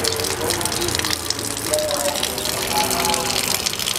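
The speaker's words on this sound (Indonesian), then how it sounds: "Saya akan membuka keran air di sini." Water gushes steadily and loudly from an opened tap feeding a gravity pump setup, with a person talking over the rushing flow.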